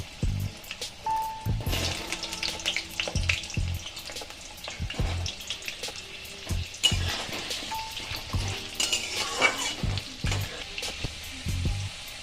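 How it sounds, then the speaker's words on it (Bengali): Oil sizzles loudly as diced potatoes fry in a pan, broken by repeated clanks and scrapes of a spatula turning them. "এটাকে আমি তেলের মধ্যে ভেজে নেব"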